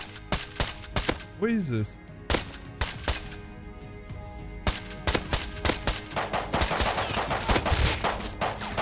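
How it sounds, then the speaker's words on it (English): Semi-automatic pistol shots from a survival video game fire in sharp, irregular bursts, loud and close, with a quick spoken voice and a brief whistling tone partway through. "Ooh, shots this way. Semi pistols."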